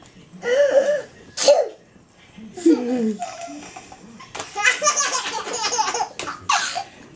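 A toddler sneezes a few times amid giggles and laughter, with people talking close by.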